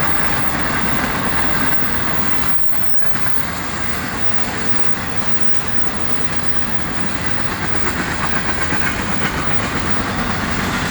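An FEC freight train passing close by, a loud continuous roar of rolling wheels and rumbling cars that carries on steadily without a break.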